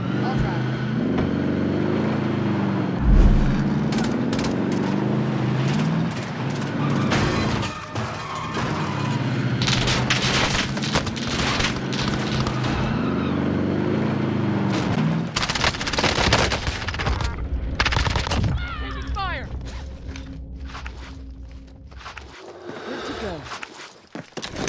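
Shotgun blasts boom in Call of Duty: Warzone amid dense battle noise of gunfire, vehicle engines and footsteps, with a player's voice talking over the fight.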